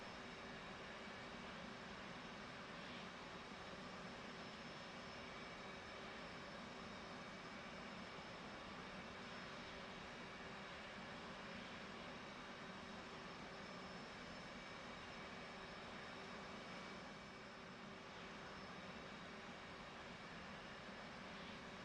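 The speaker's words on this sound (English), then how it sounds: "Now it is time to crank the left engine." Left aircraft engine cranking in a flight simulator game: a steady, continuous mid-level engine whine and rumble with a faint tonal hum, holding evenly for about twenty seconds with no talk.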